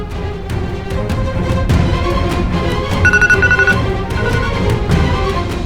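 A phone rings with a repeating electronic tone, short bursts of beeps over a busy background of music and clatter.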